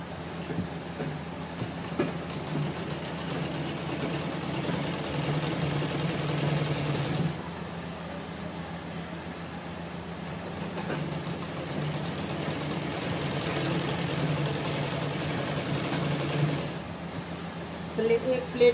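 A sewing machine stitches a belt onto a pair of pants, giving a continuous close mechanical whir that pauses briefly partway through and then resumes, with faint background noise and a voice at times.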